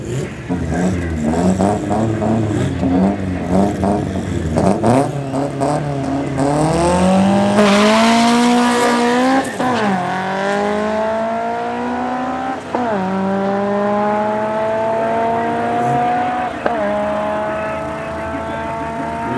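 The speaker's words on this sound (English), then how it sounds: "we got an aspirated Corolla going up against the 135" Loud drag-racing car engines, including a naturally aspirated Corolla against a 135, rev hard and climb through gears at Midvaal Raceway, with rising harmonic whines and brief drops at each shift, a sustained roar throughout.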